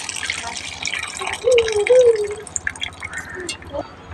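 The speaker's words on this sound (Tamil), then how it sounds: "கொதி வந்தோடனே கொஞ்சம் புளி ஊற்றிக்கணும்" Tamarind water is poured into a simmering brinjal curry in a pot. It gives a close, trickling, splashing pour over the low bubbling of the pot, with a faint tonal sound partway through.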